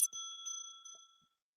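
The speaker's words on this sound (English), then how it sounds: "I will ring the bell." A small bell rings once before a meditation, a bright, clear strike that hangs in the air with a sustained shimmering tone and fades into silence.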